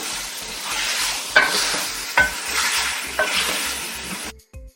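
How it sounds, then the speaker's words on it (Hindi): Potatoes frying and being stirred in a pot, a loud steady sizzle with three distinct scraping stirs spaced about a second apart, cutting off abruptly near the end. "दो मिनट हो चुके आलू फ्राई करते हुए।"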